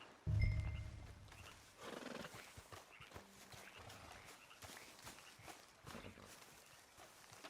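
Horses in Red Dead Redemption 2 snort and whinny up close at the start, followed by hooves clip-clopping at a walk over ground, with the sounds settling into quieter movement and footsteps.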